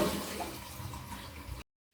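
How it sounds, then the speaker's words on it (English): Water rushes in a steady, close wash as a toilet on a newly replaced PVC flange and seal is given a test flush, then cuts off abruptly. "I'm going to do a quick test flush and make sure there's no water leaking out of the"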